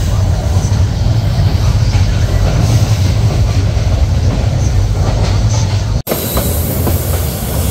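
The Suborno Express between Chattogram and Dhaka runs on rails, heard from inside as a loud, steady rumble and clatter of the wheels with a brief dropout near the end.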